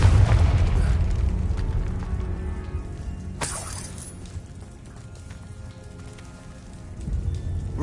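A Confringo blasting spell goes off in a video game with a loud booming explosion at the start, then a sharp shattering crack mid-way and rumbling debris fading off.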